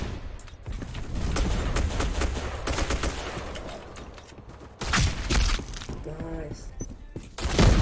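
Gunfire in the online shooter Black Squad, with rapid bursts of shots and mechanical clatter in loud clusters, while a player talks excitedly over the action.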